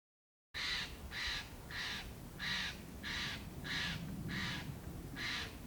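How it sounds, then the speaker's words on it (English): Crows caw close by, eight harsh calls in a steady, evenly spaced rhythm, each one loud and clear against a constant background hiss. No one speaks. "do you see those birds flapping nearby us?"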